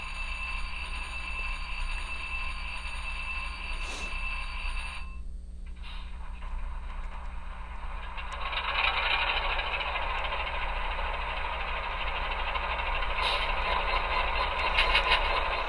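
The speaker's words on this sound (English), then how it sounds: "we're going to hear our 12-cylinder 567" Emulated 12-cylinder EMD 567 diesel prime mover from a Tsunami2 sound decoder, a steady mechanical drone with a brief pause midway before it resumes and swells louder, played alone without speech.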